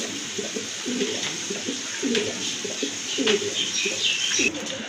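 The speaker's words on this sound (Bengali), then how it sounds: "এই যে দেখেন কবুতরগুলো মাশাল্লাহ হান্ড্রেড পার্সেন্ট কোয়ালিটি সম্পন্ন কবুতর" Several pigeons, including blue satin pigeons, coo in a continuous low, rhythmic burble, with occasional higher chirps from other birds in the background.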